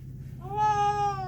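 A single clear drawn-out meow from a long-haired cat being groomed, rising and holding for under a second over a low background hum.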